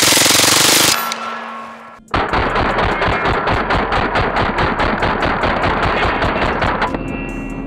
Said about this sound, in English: These strings and bursts of fire were really fun